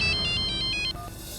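Phone ringtone during a call, a rapid electronic trill of repeated beeps that cuts off before a couple of lower tones, heard over a quiet background.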